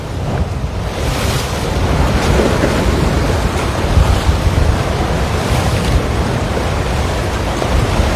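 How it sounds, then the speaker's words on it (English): Ocean waves break continuously at Waikiki, Hawaii, a loud, dense roar of surf with wind buffeting the microphone and no voices. "When the waves are really active like this, oh man, that was a good one."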